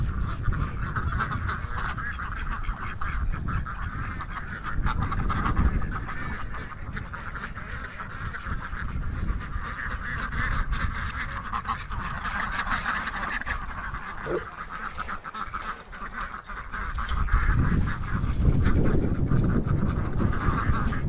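A large flock of over a thousand ducks quacks and honks outdoors in a dense, continuous chorus, swelling louder toward the end over low rumbling background noise.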